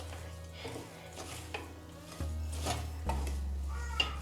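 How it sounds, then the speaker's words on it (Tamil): A rava mixture with chopped coriander being stirred in a pan, giving soft scraping and rubbing strokes at an irregular pace, with a low steady hum underneath and one sharp clink near the end. "இதே நல்லா மிக்ஸ் பண்ணி விட்டுக்கலாம்."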